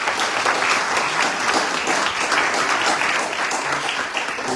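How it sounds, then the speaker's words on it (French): A hall audience at an inaugural lesson of the Beth Halimoud in Créteil applauds the bishop of Créteil, a dense, steady wash of many hands clapping together at full volume throughout. "qu'on applaudisse bien fort la présence de notre évêque de"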